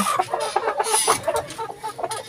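Several Rhode Island Red hens cluck in a short, choppy series of close, overlapping calls around a backyard coop in the morning, with no talking.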